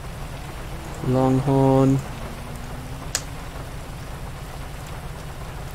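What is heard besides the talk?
rain in the video game GTA V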